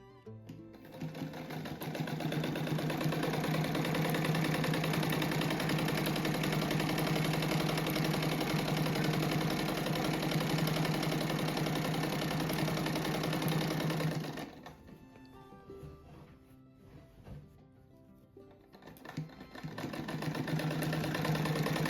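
A sewing machine stitches a rug made from old denim jeans, running in a long steady loud whir, dropping to a slower, quieter patch of stitching, then speeding back up to a full continuous hum near the end.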